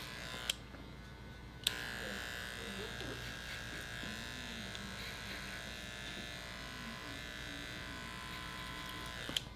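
An electric hair clipper buzzes steadily through hair during a clipper-over-comb barbershop haircut, faint and continuous, with a couple of brief clicks and quiet talk in the background.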